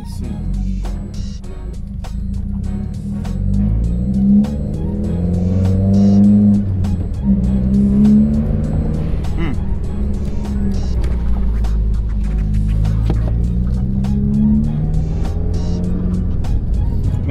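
A 2020 Subaru WRX engine hums steadily and up close, shifting in pitch as it accelerates and changes gears, with bumps and rattles from the road.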